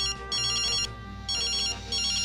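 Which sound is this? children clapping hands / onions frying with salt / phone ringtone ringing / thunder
phone ringtone ringing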